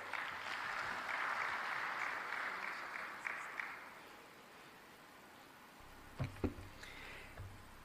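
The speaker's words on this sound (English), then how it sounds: "I believe a bigger round of applause would do." An audience at a coffee summit claps in a sustained burst for about four seconds, then the applause fades to near quiet, leaving a few faint knocks and handling noises.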